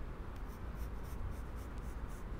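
Pen scratching along paper while drawing bodice panel pattern lines toward a bust point, a continuous close rubbing stroke lasting a couple of seconds.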